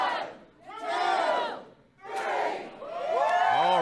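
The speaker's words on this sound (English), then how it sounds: "The crowd is going wild." A crowd at a slap fighting event cheers and roars in loud surging waves, with shouts and whoops rising and falling across three big swells, close and continuous.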